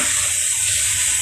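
Meat browns in a pan for lugaw with a loud, continuous close-up sizzle and no voices.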